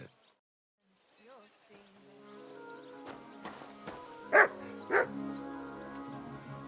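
A dog in the medieval village world of Kingdom Come: Deliverance 2 gives a couple of sharp, fairly close barks over a quiet ambient bed with buzzing insects and a soft musical tone.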